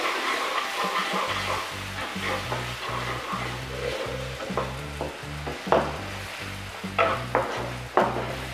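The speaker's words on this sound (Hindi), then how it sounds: "अब इसमें हम डालते हैं सोया सॉस हल्दी नमक अब इन सबको अच्छे से मिक्स कर लेते हैं" Potatoes with spices, turmeric, salt and soy sauce being stirred in a frying pan, a sizzle broken by repeated spoon scrapes that grow sharper toward the end, over a low steady droning tone.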